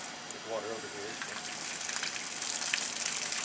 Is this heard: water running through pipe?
yes